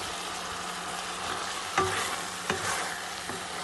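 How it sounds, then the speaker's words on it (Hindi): Karela stuffing with minced meat fries in a little ghee, a steady close sizzle under a few sharp stirring scrapes and clicks, no talking. "अब बिल्कुल थोड़ा सा मैं घी ऐड करूँगी, ज़्यादा नहीं बस, और इसको अच्छे से भून लूँगी"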